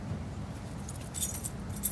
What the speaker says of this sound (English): That's the keys to the Chevrolet ramp truck.